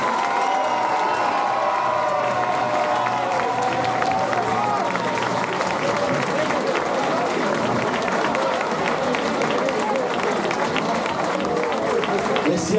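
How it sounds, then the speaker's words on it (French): Crowd applause at a royal march ceremony in Gerpinnes, steady and loud clapping with some cheering throughout, a voice briefly audible beneath it. "je pense sincèrement qu'on peut l'applaudir beaucoup plus que ça."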